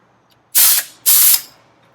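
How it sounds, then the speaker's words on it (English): Pneumatic hog ring gun closing rings onto gabion wire mesh: two sharp, loud bursts of hissing air in quick succession, close by and with no talking. "So that's how our pneumatic gun works."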